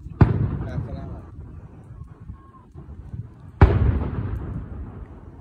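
Fireworks explode in two sharp, loud booms a few seconds apart, each followed by a rumbling echo that fades out, with people talking faintly between the bursts.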